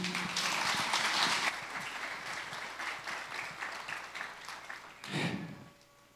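Church congregation applauding after a leadership talk, a dense, loud wash of clapping that swells early, thins out over several seconds, then brings a brief burst before fading.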